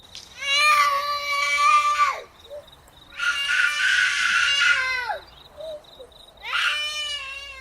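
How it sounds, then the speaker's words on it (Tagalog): At night, three long, loud, wailing screams rise and fall, each lasting around two seconds and separated by short pauses, sounding shrill and close against a quiet background. "Saan ang galing ang sigaw na yon?"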